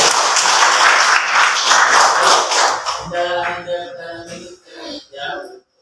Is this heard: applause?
yes